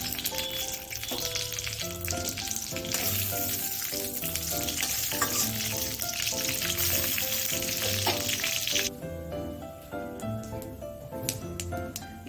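Dried red chilli, bay leaf and whole cumin crackle in hot mustard oil for a prawn curry, a dense continuous sizzle with bright popping that eases slightly near the end.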